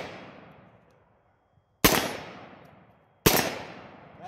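Two loud, sharp shots from a Remington ACR rifle, spaced about a second and a half apart, each a close crack with a ringing decay and no voices.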